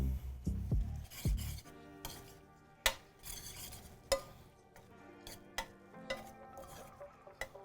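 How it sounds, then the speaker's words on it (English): Chopped chives stirred into cooked onions in a pan, with a spatula scraping and tapping in irregular strokes and sharp clicks against the pan over a faint sizzle, no talk. "So I'm gonna add the chives to the onions. And we're gonna stir it in."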